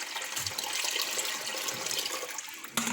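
Water sloshes and splashes steadily as wheat is rinsed in a pot, a continuous close wet wash with a brief knock near the end.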